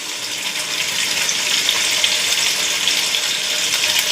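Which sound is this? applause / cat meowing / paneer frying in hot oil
paneer frying in hot oil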